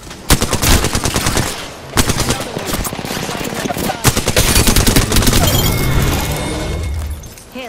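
Heavy gunfire from Apex Legends gameplay: loud, rapid bursts of automatic shots with sharp single cracks, sustained for several seconds with barely a pause, with a brief shattering sound among them.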